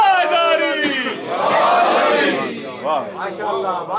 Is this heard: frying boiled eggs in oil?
no